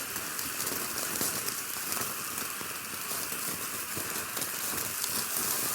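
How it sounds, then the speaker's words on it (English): Red pepper, white onion and carrot ribbons stir-frying on a grill, a steady crackling sizzle with scattered pops, continuous and close. "So we're just going to make a quick stir fry of this."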